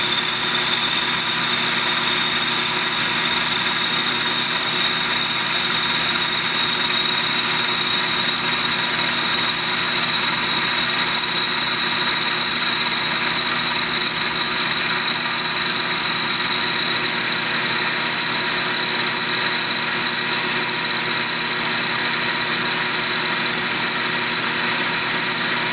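A Tormach PCNC 1100 lathe cuts a workpiece, producing a loud, continuous high-pitched machining whine with steady motor drone, unbroken for the whole stretch.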